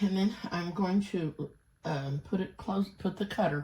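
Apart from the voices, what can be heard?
No distinct noise like a dog, phone or traffic.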